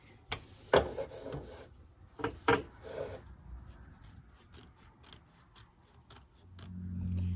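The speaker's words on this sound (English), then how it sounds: "take your hoop scissors mini and you're going to cut right up close to the tack down stitches" Small mini hoop scissors snip fabric close to embroidery tack-down stitches in a series of quick, quiet cuts, irregularly spaced, with light rustling between snips.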